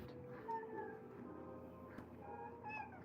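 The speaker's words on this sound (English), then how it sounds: "And this dang cat, he just wants to attack me." A house cat meows several times at a table, soft and fairly close, with drawn-out tonal cries over a low room hum.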